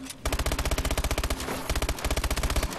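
Rapid automatic gunfire from a video game's zombies mode rattles out in two long bursts with a short pause between them, loud and close with sharp evenly spaced shots.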